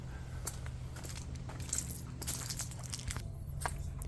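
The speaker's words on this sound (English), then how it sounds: "the sound of the leaves crunching beneath my feet" Footsteps crunch through dry fallen autumn leaves on the grounds of Forest Lawn cemetery, a series of uneven crackling steps close by, each crisp and brief, with no talking.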